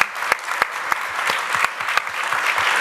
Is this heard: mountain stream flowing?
no